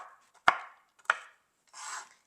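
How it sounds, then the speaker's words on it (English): A knife chops pecans on a cutting board with a rocking motion: two sharp, separate knocks followed by a softer scraping rub, close and quiet. "I find that the chopping sends the nuts flying, so I like to do the rocking"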